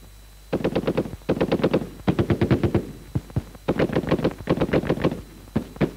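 Rapid rifle and machine gun fire in a military training film: dense bursts of automatic fire in quick rattling strings, interrupted by a few isolated single shots, loud and steady throughout.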